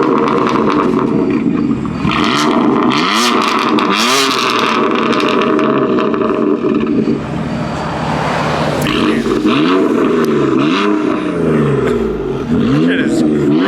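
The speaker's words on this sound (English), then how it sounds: "Should I rev it? Yeah, go rev it." BMW engine revved hard and loud, with repeated rising and falling rev sweeps throughout, close by; voices chat alongside.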